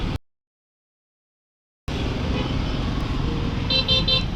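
Road traffic of cars and motorcycles on a Manila-area commute home, heard as a steady engine and tyre rumble after a brief dropout, with a few short horn toots near the end.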